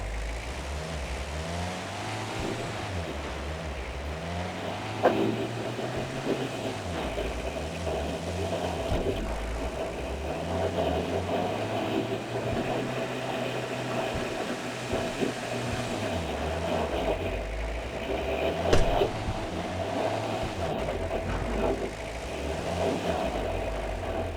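A truck engine drives steadily in Way of the Hunter, set in Finland's Lintukoto Reserve. It rumbles at mid pitch and rises and falls as it revs and shifts, with occasional bumps and rattles and no talk.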